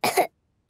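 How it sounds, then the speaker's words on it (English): A single harsh cartoon cough from a Peppa Pig episode, close and fairly loud, followed by silence and a brief onset of another sound at the end. "Monkey has a bad cough"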